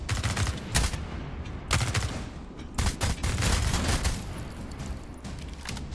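Robots firing at the player in the sci-fi video game Moon Mystery, with rapid bursts of gunshots and booming impacts repeating across the scene, loud and close, with no talking.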